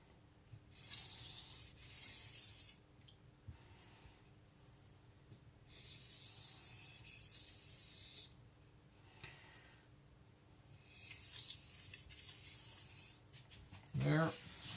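Shibata Kotetsu gyuto knife edge rubbed on a Shapton Pro whetstone to take off the burr: several separate gritty scraping strokes of a few seconds each with quiet gaps, fairly close and soft.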